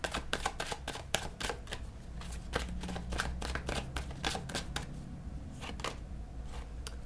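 Tarot cards are shuffled, handled and drawn from a deck during a reading, giving rapid, close papery flicks and snaps in quick bursts, with a few separate taps as the cards are laid down.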